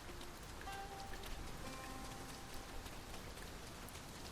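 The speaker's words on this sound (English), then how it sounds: "It started raining, Master." Steady rain falls in the video game Dragon's Dogma 2, a continuous broadband hiss of drops on surfaces with no talk over it.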